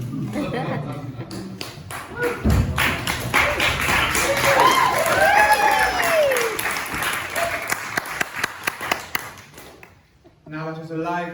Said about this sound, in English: Now it is a lively applause